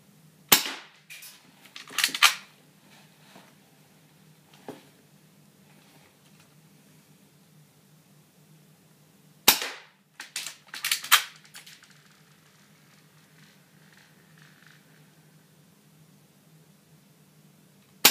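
Toy pistol fired in a few quick bursts of sharp, cracking cap-gun pops, clustered near the start and again midway, separated by near silence.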